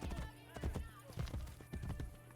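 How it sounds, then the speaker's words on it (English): Horse hooves clip-clopping in Assassin's Creed, a steady trotting rhythm of close, distinct hoof strikes with a brief whinny, while a person talks over the gameplay. "Oh, look out, horse."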